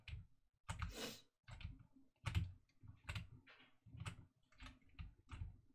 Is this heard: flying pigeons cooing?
no